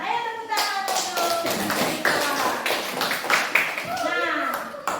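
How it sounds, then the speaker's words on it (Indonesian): Classroom students clapping hands together during an Indonesian lesson on units of time, a busy burst of claps mixed with children's voices and talk throughout. "Ayo tepuk tangan untuk"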